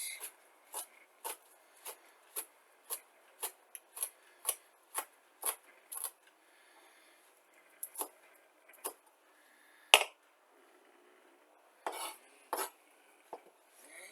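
A knife slices through rolled-up celery leaves in a quiet kitchen, a series of crisp, faint, evenly spaced cutting taps, pausing briefly and then resuming in a quicker cluster.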